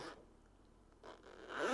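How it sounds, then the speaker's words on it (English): A YKK zipper on a fabric EDC admin pouch is pulled in quick, close scratchy bursts, one at the start and two more near the end, with quiet gaps between. "We have some YKK zippers. Very, very smooth."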